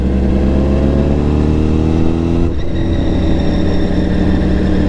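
A motorcycle engine revs up loudly close by, pitch climbing then dropping briefly before rising again, no speech.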